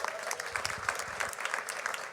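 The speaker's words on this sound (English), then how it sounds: "Let's give him a round of applause." Applause from an audience at a publishing-house event, greeting its editor-in-chief with a steady, moderately loud round of clapping that carries on at an even level from start to finish.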